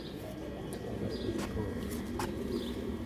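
Sialkoti pigeons cooing, soft low coos repeating under a steady hum of background noise, with a couple of brief higher chirps.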